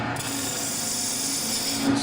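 A spindle roughing gouge cuts into spinning wood on a lathe, making a continuous loud rasping, rubbing hiss that holds steady throughout, close and with no voices.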